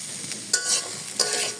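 Roughly chopped onions frying in a little oil, a close hissing sizzle interrupted by two brisk spatula scrapes that briefly swell the sound, no voices.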